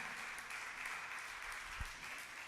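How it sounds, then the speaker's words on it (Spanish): Faint, steady applause from a church congregation honoring King Jesus during a worship service; the soft wash of clapping sounds distant and continues evenly throughout. "Vamos a darle un fuerte aplauso al Rey Jesús en esta hora"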